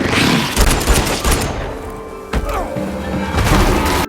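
Gunfire from a film scene, a loud dense volley of shots and impacts running almost continuously with a brief lull midway before another burst.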